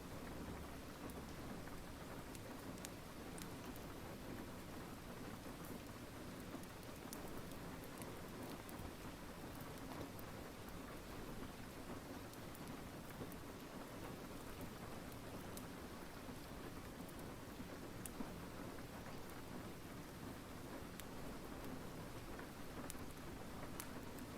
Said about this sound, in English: I'm enjoying the sound of the rain.